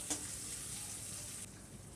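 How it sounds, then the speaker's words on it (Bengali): Chopped onions fry in oil after a spice tempering of black cumin, giving a faint, even hiss that drops slightly in level near the end, close and without talk. "দিয়ে দিলাম কেটে রাখা পেঁয়াজ। পেঁয়াজটা একটু ভেজে নেব"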